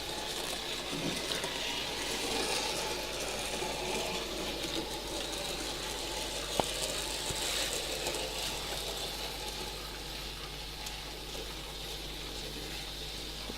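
A small radio-controlled car motor whirs steadily at idle, a close, even mechanical buzz with faint ticking and gear noise, no voices present.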